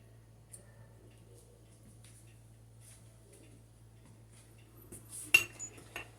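Small metal carburetor parts from a push mower clink into a bowl near the end, a short cluster of sharp rattling chinks after a mostly quiet stretch with faint handling noises.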